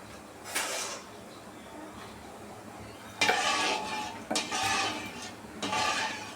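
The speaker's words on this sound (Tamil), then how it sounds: "நல்லா நம்மளுக்கு கொதிக்கவும் கிண்டுவோம்." Scraping and clinking of a utensil stirring banana leaf halwa batter in a pan in a few bursts, close by, with quieter gaps between strokes.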